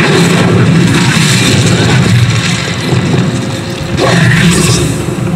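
An Incendio fire spell in Hogwarts Legacy lands as a loud, rumbling blast, with a sustained roar that dips briefly and then swells again in a second burst.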